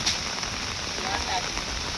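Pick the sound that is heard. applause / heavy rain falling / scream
heavy rain falling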